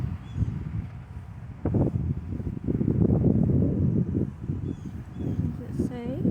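Blustery wind in an outdoor cemetery on a windy day, rumbling loudly against the microphone in gusts that swell and ease, with a few faint bird or crow calls.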